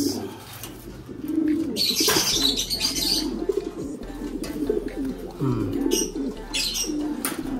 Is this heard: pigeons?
yes